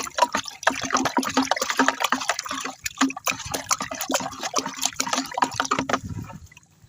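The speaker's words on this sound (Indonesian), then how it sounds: "Nah, semua bahan ini sobat tani kita aduk." Spray ingredients are stirred into water, giving continuous sloshing and splashing liquid sounds with rapid irregular churning that fades out near the end.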